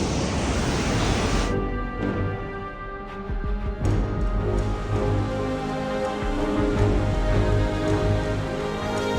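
Steady loud rushing of a fast-flowing mountain river in Uttarakhand's Valley of Flowers fills the whole stretch, a constant broadband roar close by with no voices.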